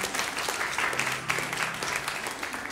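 A church congregation applauds its prayer chaplains, a warm sustained wash of clapping across the room, with a brief voice faintly underneath.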